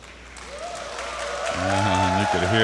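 Crowd at a pool tournament in the Philippines applauds, rising in volume over the clip while a commentator talks above it.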